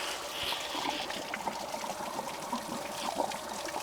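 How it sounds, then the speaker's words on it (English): Water trickles and gurgles faintly and steadily as it flushes through the engine block of a 100-year-old Ford Model T, with the radiator blocked off. "now let's let it flush the block"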